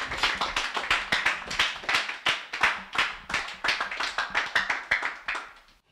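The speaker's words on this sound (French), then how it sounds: "Acclamons très fort pour la gloire de Jésus." A church congregation applauds loudly, with rapid, dense hand claps holding steady throughout and no voices over them.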